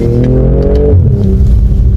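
A BMW M240i's engine revs hard in snow, a loud, close throaty rise that peaks and drops back into a rumbling idle within about two seconds.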